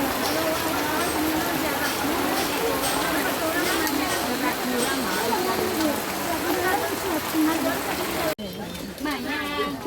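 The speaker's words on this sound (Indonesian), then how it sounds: "ini hujan sudah mulai teduh teman-teman ya" Steady, heavy tropical rain pouring continuously in Indonesia, a dense hiss that fills the whole clip before cutting abruptly near the end.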